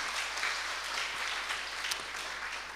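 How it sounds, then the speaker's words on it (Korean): A church congregation applauds during an early morning prayer service, a steady, faint spread of clapping heard from a distance in a large room, holding an even level throughout. "우리 크게 박수로 격려합시다."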